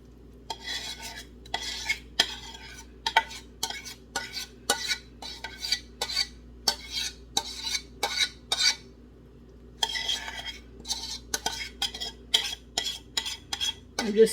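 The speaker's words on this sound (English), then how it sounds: "I'm going to finish getting this all mixed together, so that way every noodle's coated" Metal utensil stirring and scraping mac and cheese noodles around a pot, a steady run of close, rhythmic scrapes and clinks with a few short pauses and no talking.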